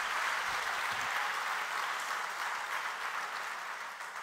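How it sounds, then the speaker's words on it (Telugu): A church congregation claps together during a morning prayer service, a dense, steady roar of applause that holds for several seconds and then eases slightly toward the end. "చప్పట్లు కొట్టి దేవుని స్తుతిద్దాం."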